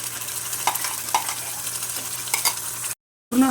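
Spice masala stirred and roasted in a pan for jackfruit curry, giving a steady hiss with soft scraping touches, then a brief gap of silence before the sound resumes.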